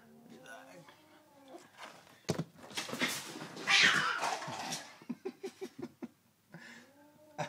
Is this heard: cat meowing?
yes